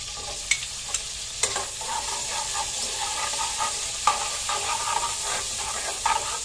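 Garlic and onion fry in a hot pan with a dense, steady sizzle, while a utensil stirs and taps the pan every so often, close by and with no voices.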